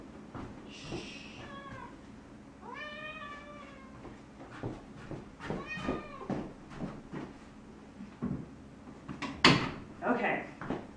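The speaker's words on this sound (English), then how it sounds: "I'm just going to grab my cat while you do that." A pet cat meows several times in drawn-out, rising calls, close and fairly clear, with rustling and handling noises and a voice in the room.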